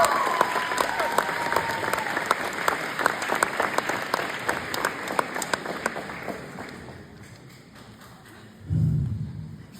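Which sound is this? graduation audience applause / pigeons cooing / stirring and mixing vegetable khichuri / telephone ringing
graduation audience applause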